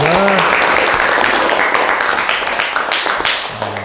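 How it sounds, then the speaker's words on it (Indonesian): Classroom students clap for two classmates, a brisk burst of many hands with a short voice at the start, thinning slightly as it goes on. "Tepuk tangan untuk 2 teman kalian."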